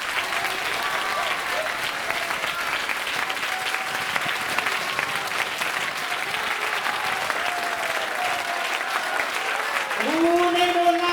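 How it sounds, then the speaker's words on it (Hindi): Sustained, vigorous clapping from a crowd at a Christian youth conference in Nepal, dense and even for many seconds, with a voice rising over it toward the end. "जोर से ताली बजाइए।"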